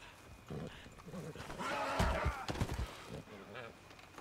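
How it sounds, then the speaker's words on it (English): A horse in Red Dead Redemption 2 whinnies and snorts close by over a busy game soundscape, with a few thumping hoof or kick impacts around the middle. "Standing behind a strange horse will get Arthur booted in the face."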